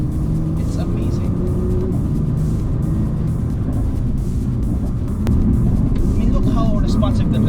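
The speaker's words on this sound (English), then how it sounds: "Downshift here, take this corner, make the EATS work, rotate, let the engine pull you out, shift, downshift." A Nissan GT-R R35 engine pulls hard through mountain corners, a steady loud rumble that swells as it accelerates, with someone talking over it.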